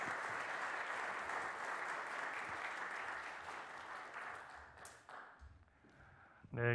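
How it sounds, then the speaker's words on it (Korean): A church congregation claps again during a Korean Presbyterian deacon ordination service, the applause dense at first, then thinning and fading into scattered claps and small room noises near the end. "다시 한번 박수해 주시길 바랍니다."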